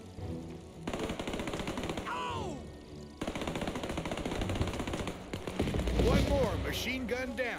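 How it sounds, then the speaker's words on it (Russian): Gunfire rings out in the war video game Men of War II, including a silenced shot, amid battle effects and scattered bursts, with voices speaking over the action. "Это был выстрел с глушителем"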